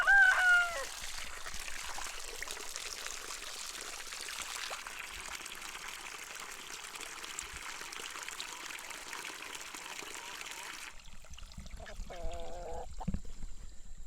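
Chickens on a farm with lavender Orpington hens, a rooster crowing loudly at the start, then quieter clucking over a steady trickle of running water, with a few more bird calls near the end.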